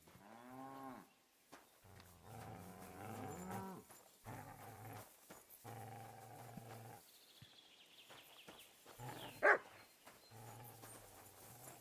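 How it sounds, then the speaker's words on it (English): A dog barks repeatedly in the medieval open world of Kingdom Come Deliverance II, bursts of barking coming in uneven clusters close by over a low ambient background, with one sharp louder hit near the end. "Who are you barking at, doggy?"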